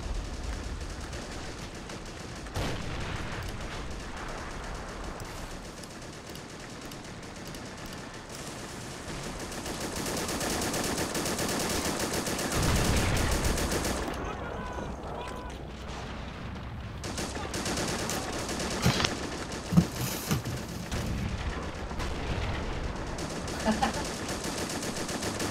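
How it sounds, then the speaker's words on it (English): Men of War battle on the Dubovka Remix map, with heavy .30 cal machine gun bursts and a mortar shell blast amid dense, loud, continuous gunfire and rumbling explosions, no voices. "That was a good mortar shell there."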